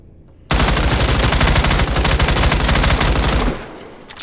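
A PK machine gun in the Badlanders video game fires one continuous loud automatic burst lasting about three seconds, with rapid evenly spaced shots, then cuts off into a fading echo.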